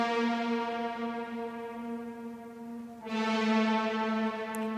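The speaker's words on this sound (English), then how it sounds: "we have a mids reverb" A sustained synth tone with a long six-second high-passed reverb on the mids, a steady buzzy harmonic drone that swells brighter partway through, smooth and continuous with no talk.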